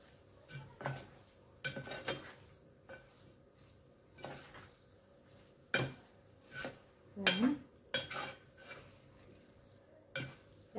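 Dried shrimp (jawla) is sautéed in masala, with intermittent close scraping and stirring strokes of a utensil against the pan over a faint sizzle, in uneven bursts with short pauses.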